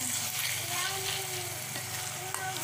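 Sambal with shrimp being stirred in a pan, oil sizzling steadily and loudly throughout with faint scraping of the spoon.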